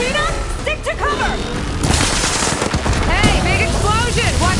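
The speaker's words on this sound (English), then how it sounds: "Hey, big explosion! Watch out!" A big explosion in the game Horizon Burning Shores erupts among rapid gunfire and booming blasts, loud and dense throughout, with machine cries and combat noise layered over it.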